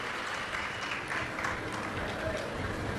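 Audience applauding to welcome the host family at a Shiv Mahapuran katha, a steady, continuous wash of many hands clapping from a large crowd, with voices mixed in.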